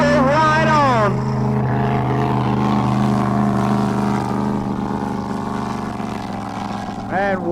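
A racing drag boat engine at an Oklahoma drag boat meet roars loud and close, a sweeping whine rising and falling at the start before settling into a sustained heavy drone, then another brief rising whine at the end.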